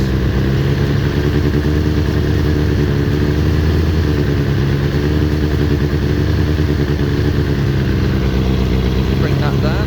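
A 2000 Kawasaki ZX6R engine idles steadily during carb balancing, a loud, close, continuous burble with an even clatter and no letup.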